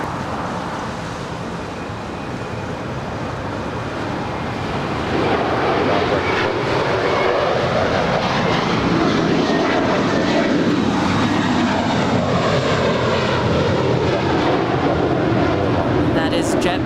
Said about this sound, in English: That is JetBlue 324 off to JFK.